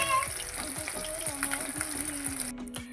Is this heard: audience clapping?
no